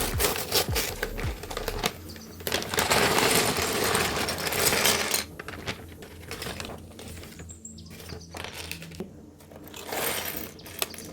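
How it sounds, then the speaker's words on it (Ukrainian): Crinkly rustling and tearing of a plastic Lego parts bag, with bursts of crackle, small clicks and rattling parts, close up and alone. "Відкриваємо сьомий пакетик."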